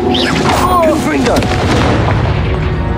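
Confringo fire blast spell exploding in the Hogwarts Legacy video game, a loud booming burst with crackling tail over game music and effects.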